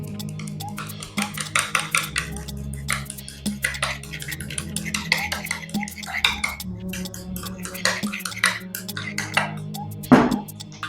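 A utensil stirs homemade aloe vera gel in a bowl, producing soft, irregular scraping and clinking taps that repeat for several seconds, close and fairly quiet, ending in one sharper knock.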